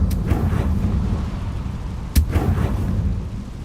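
A Confringo fire spell explodes in the Hogwarts Legacy video game: a continuous deep rumbling roar, with a sharp, loud blast just past two seconds before the rumble carries on.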